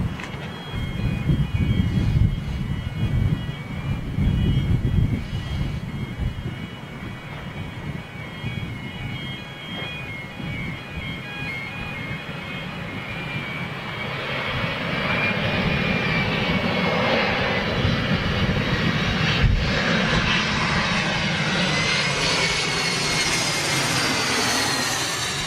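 A jet airliner from Amsterdam lands on the short runway at London City Airport. A heavy low rumble builds and then swells into a loud, continuous roar with a rising high whine as the plane passes close.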